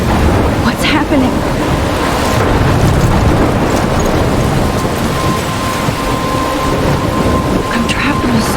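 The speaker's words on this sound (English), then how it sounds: "I'm trapped in a storm?" A heavy thunderstorm in Life is Strange: dense, loud rain and wind roar continuously throughout, with low rumbling thunder underneath and no voices.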